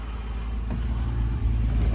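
A 1971 Mercedes-Benz 280SL engine running after coil replacement and ignition tuning, a steady deep low rumble heard up close for a couple of seconds.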